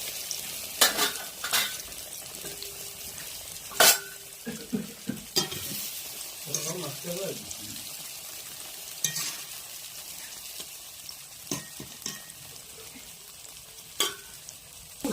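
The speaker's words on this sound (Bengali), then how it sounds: "এখন আলুটা ভাজলো" Potatoes fry in hot oil in a pan with a steady sizzle, while a utensil stirs and scrapes against the metal in scattered sharp clicks and knocks, close and clear with no talking.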